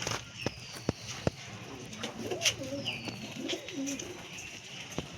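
Soft pigeon coos rise and fall against an outdoor background, with a few sharp knocks and faint chirps scattered through.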